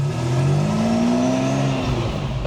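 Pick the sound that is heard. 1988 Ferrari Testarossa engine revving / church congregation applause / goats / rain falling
1988 Ferrari Testarossa engine revving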